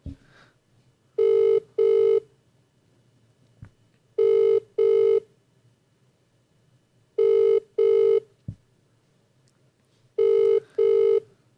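A phone ringing on speaker during a call, four double rings evenly spaced a few seconds apart, clear and loud over a faint hum, with no talking.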